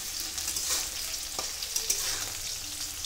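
Potatoes frying in hot oil in a home kitchen, a steady bright sizzle running throughout with a few soft clinks of a utensil, close and fairly loud.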